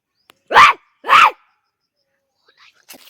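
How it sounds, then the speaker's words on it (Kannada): A dog gives two loud, close barks about half a second apart, then quiet with faint rustling and a brief voice near the end. "ನಾಯಿ ಹತ್ರ ಬಂತು"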